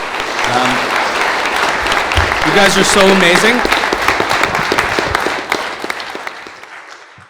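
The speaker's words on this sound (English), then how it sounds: "giving a huge round of applause to the stars of our show, Ashley and Emma" A book launch audience gives a big round of applause to Ashley and Emma, dense clapping that swells and then fades, with someone speaking over it and cheers mixed in.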